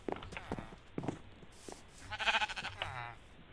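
Sheep in a video game let out a few faint, wavering bleats, the clearest near the end, mixed with soft clicks and a quiet background.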